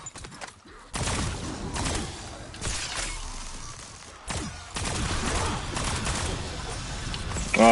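Automatic gunfire in a Call of Duty Zombies game, dense rapid bursts that come in waves over about eight seconds, loud and continuous with brief lulls.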